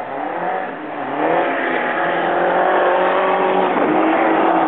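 A Nissan GT-R, stock with 530 horsepower, launches hard at a drag strip, its loud engine note climbing steadily in pitch as it accelerates, heard alone without any talk.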